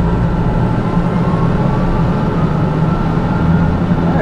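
TBM 940 turboprop engine spooling up at high idle as the propeller unfeathers, heard from inside the cockpit as a loud, steady broadband roar with a sustained low hum and a faint whine, no talk.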